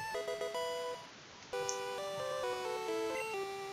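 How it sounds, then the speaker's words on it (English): Short chiptune jingle from a Pokemon game for obtaining the Metronome TM, a bright beeping melody of stepped tones with a brief gap partway, quiet against faint background hiss. "That's the sound of Metronome."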